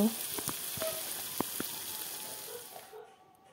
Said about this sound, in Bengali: দেখো বন্ধুরা, মশলাগুলো তেলে দেওয়া হয়ে গেল।